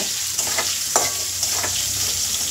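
Salted brinjal fries in a pan with a constant close sizzle, broken by a few brief scraping strokes as it is stirred.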